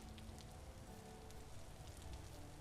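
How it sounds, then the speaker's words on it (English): Steady rain falls in the video game Vintage Story, a dense, even patter of drops that holds at the same close level throughout with no voices over it. "It's still raining."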